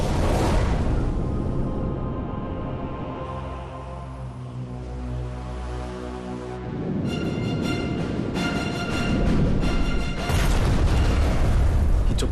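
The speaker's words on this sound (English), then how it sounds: "He torpedoed it, and it was a fuel tanker, and there was a large explosion." A torpedo strikes a fuel tanker at sea, setting off a massive, sustained explosive roar with deep rumbling that swells and persists for many seconds.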